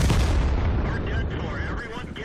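Tank cannon fire in World of Tanks from a TOG II, heavy booming blasts rolling into a dense, continuous rumble with battle noise throughout, loud and close.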